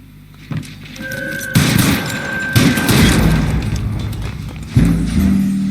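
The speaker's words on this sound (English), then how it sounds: "So now we're going to try and shoot Mark Bishop." Gunfire in L.A. Noire as a shot is aimed at the character Mark Bishop: loud booming shots with sharp onsets and sustained rumbling echoes, over a steady game-sound bed.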